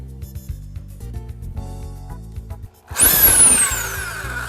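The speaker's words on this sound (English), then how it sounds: "using the 3/16 inch drill bit that's in the kit and your electric drill and a pair of safety glasses, we're going to drill the 3 holes" An electric drill fitted with a 3/16 inch bit bores holes for a garage door bracing bracket, a loud whining grind that kicks in after a hum of background music.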